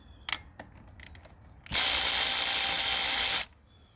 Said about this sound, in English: Alright, so you're going to remove the 8mm bolts